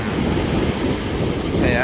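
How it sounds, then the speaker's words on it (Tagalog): Ocean waves wash against a beach in a steady, loud roar of surf mixed with wind buffeting the microphone, continuous with no distinct breaks and no speech. "pinapakinggan natin yung natural voice, natural sounds ng alon"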